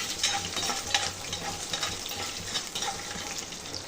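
Green chilies, dried red chilies and curry leaves frying in oil for raw mango pulihora, a crisp bright sizzle with quick stirring scrapes throughout, close and moderately loud.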